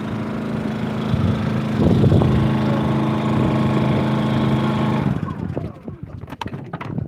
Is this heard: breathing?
no